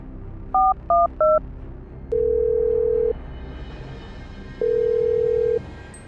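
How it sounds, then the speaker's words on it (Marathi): Three quick mobile phone keypad beeps, then two longer steady dialing tones separated by a pause, clear and close against a quiet background. "त्या माणसाने त्याचा मोबाईल काढला आणि सत्यजितला कॉल केला"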